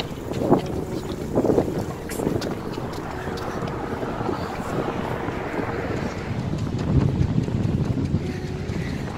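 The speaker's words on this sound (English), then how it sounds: "Windy." Wind blowing across a microphone at the beach, a steady low rumble with gusty swells that stays loud and continuous throughout.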